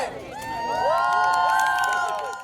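Crowd at a Bernie Sanders political rally in a high school in Santa Ana, a loud swell of cheering and whooping voices that rises, holds steady and fades over a couple of seconds.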